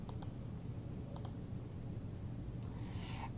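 A computer mouse clicks quietly while toggling an image-editing preview, giving a few sharp double clicks spaced about a second apart over a faint room hum.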